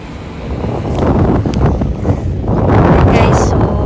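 Strong wind blows hard across the microphone outdoors in the Philippines, a steady rushing roar with gusty swells that rises louder toward the end.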